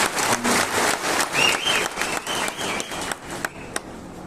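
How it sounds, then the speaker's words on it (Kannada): An audience at a cable day celebration function in Tumakuru claps steadily in dense, sustained applause that thins toward the end, with a few sharp isolated claps. "ಇನ್ನೊಮ್ಮೆ ಚಪ್ಪಾಳೆ ಹೊಡೆದುಕೊಳ್ಳಿ"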